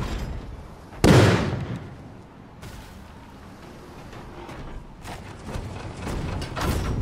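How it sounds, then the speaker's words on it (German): A heavy ship cannon blast in the video game Skull and Bones booms out loudly, followed by fainter rumbling thuds and crackles from more shots further off. "die Kanonen und so ist schon relativ laut"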